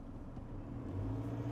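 A 2.0 BiTDI VW Amarok diesel with a hybrid turbo accelerating in fourth gear, a steady low engine rumble that swells slightly louder toward the end, heard from inside with no talking.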